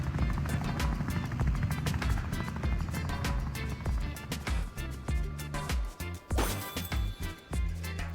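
Wobbly Life game audio of a helicopter landing, its rotor chopping rhythmically and loud, with intermittent thuds and crashes cutting in near the end.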